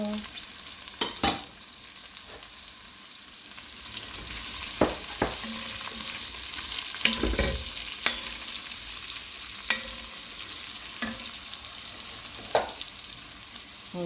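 Onions and green peppers fry in a Le Creuset pot with a continuous close sizzle, broken by irregular spoon scrapes and clinks against the enamelled cast iron, with no voices.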